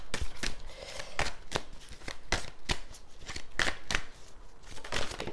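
Tarot cards being shuffled up close, a series of crisp papery riffles and flicks in uneven bursts, fairly loud, with no voice over them.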